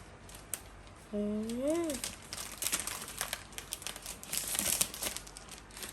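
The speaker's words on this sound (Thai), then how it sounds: "เดี๋ยวนเน่ก็จะมาแกะคีย์บอร์ด ให้ดูกันนะคะเพื่อน ซึ่งตัวคีย์บอร์ดนะคะเขาก็ห่อพลาสติกมาค่ะ" Plastic wrapping being peeled and crinkled off a new Apple iMac 2021 keyboard, with steady close rustling through most of the span and a voice talking briefly near the start.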